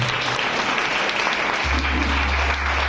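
A church congregation breaks into loud, sustained applause during a Hindi worship service, a dense continuous wash of clapping with a low hum entering partway through.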